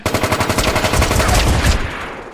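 Rapid automatic gunfire from the PS3 shooter MAG, a dense, loud stream of shots rattling continuously for a couple of seconds before trailing off.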